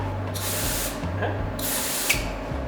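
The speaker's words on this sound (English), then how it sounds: "Spray painting it." Two bursts of hissing aerosol spray, each about half a second long, close by over a low background hum.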